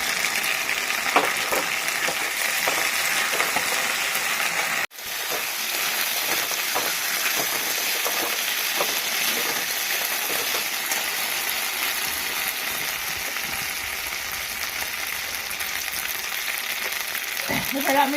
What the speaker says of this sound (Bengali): আমি মশলাটা দিয়ে দিচ্ছি আদা জিরা বাটা রসুন